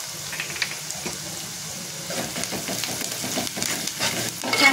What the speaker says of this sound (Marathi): छान परतून घेते